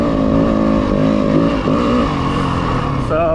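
A 2026 Yamaha WR250F dirt bike engine revs loudly and close, holding a steady buzzing drone with a brief throttle rise near the end.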